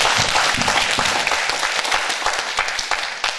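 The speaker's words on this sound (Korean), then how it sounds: "하나님께 영광의 박수 한번 드려요." Warm applause from a congregation at a pastors' couples healing revival service, dense clapping close by that gradually thins toward the end.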